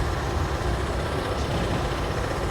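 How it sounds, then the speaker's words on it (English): Dynamic braking on a locomotive in a train simulator game, a steady low, heavy engine-like drone and broadband roar that stays constant at moderate level without speech. "I'm going to try the dynamic braking again."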